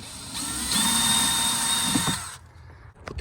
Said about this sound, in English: just drilling the holes out.